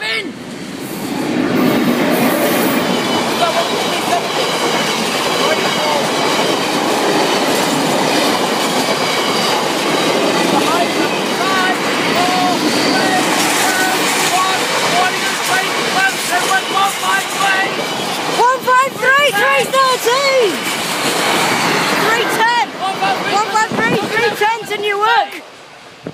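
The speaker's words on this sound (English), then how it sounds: "The train is approaching." A train approaches a rural level crossing, a loud continuous rumble with squealing wheels and rising clatter building toward the end, while people talk nearby.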